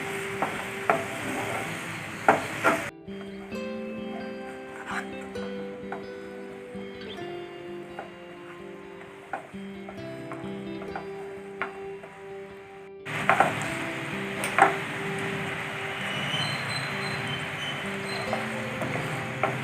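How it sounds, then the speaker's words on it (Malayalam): Jaggery syrup boils and reduces in a pan while sesame seed balls are being made, with a close bubbling hiss at the start and again near the end and a quieter stretch between. "നന്നായി ഇത് തിളച്ച് വറ്റട്ടെ"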